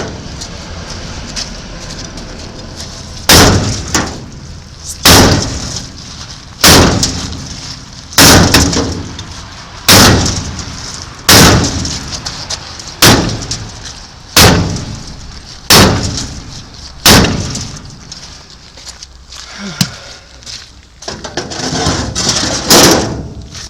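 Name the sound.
hammer whacking a car brake drum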